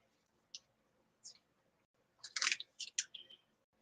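Tarot cards being shuffled by hand give quiet, scattered clicks at first, then a denser burst of snapping and riffling card sounds near the end, close and soft with no talk.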